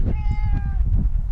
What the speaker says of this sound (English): my kitty cat has decided to join. I'm gonna bring her upstairs real quick because she doesn't shut up.